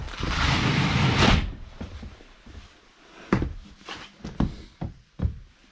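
A cabin screen door on a 2000 Regal 2660 Commodore cruiser slides open with a rushing scrape, followed by several knocks and clunks as the frame settles, close by, with no talk.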